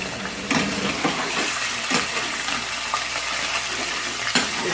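Small pieces of chicken leg fry in hot oil, giving a steady sizzle with occasional sharper crackles and spatters, moderately loud and close, with no talking.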